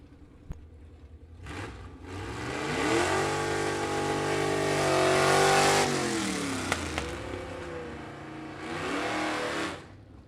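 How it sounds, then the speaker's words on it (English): A 1961 Chevrolet Bel Air with a 409 V8 launching at a vintage drag race, its engine revving up through a long rising howl, dipping, then surging again before cutting off. "Coming up now to the 1961 Chevrolet Bel Air, 61 Bel Air with a 409."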